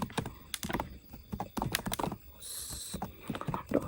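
Close computer keyboard typing comes in quick uneven bursts of clicks with short pauses, as code is entered, with a brief hiss partway through.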